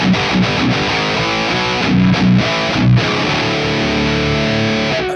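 Heavily distorted metal guitar played through a portable transistor distortion rig, loud and saturated, with chugging rhythmic riffs and sustained chords ringing throughout, no voice.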